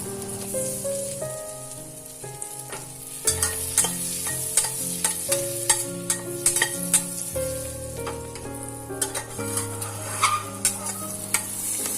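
Broken green chillies fry in a hot pan at home, giving a steady sizzle with scraping stir strokes, while sustained musical tones play underneath throughout.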